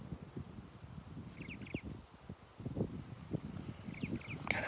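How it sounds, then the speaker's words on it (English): A crissal thrasher in Spring Mountain State Park, Nevada, gives short, faint high chirps in small clusters, distant over rustling leaves, wind and low handling noise. "That's the crystal thrasher."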